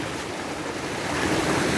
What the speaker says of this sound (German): die Wellen kommen heute wieder von zwei Richtungen.